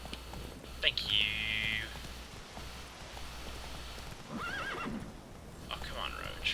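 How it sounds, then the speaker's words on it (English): Horse neighing in the Witcher 3 video game: a loud whinny near the start, then a softer second call and faint hoof clip-clop over a steady low rumble of game ambience. "Magical teleporting horse."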